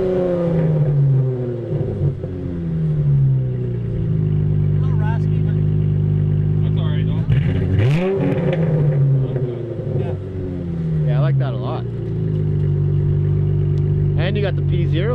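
A second-generation Chrysler 300 with a Challenger exhaust idles with a deep, throaty exhaust rumble, then revs sharply once midway before settling back to a steady burble.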